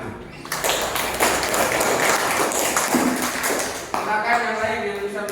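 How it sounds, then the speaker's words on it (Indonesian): Applause fills a classroom, many hands clapping in a dense, fairly close burst lasting several seconds, with a short pause and a few more claps while a voice talks over it. "terima kasih tepuk tangan"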